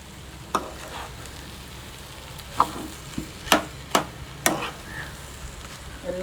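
Fried rice is stirred in a pan, a spatula scraping and knocking in several sharp, irregular clacks over a soft, continuous sizzle.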